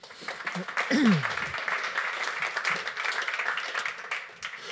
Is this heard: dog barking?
no